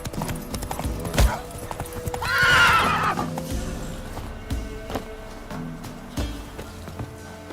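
In The Witcher 3, the horse Roach gallops with quick hoof clops and lets out a loud, drawn-out neigh partway through, then the hoofbeats continue.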